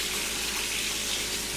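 Cold water runs from a tap in a kitchen, a steady, close, full-bodied gush of running water that continues without a break and with no talking.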